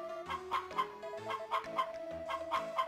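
Chicken fight in Harvest Moon: Back to Nature: game hens cluck in quick repeated bursts over a looping, tonal music backdrop, the clucks evenly paced and clear.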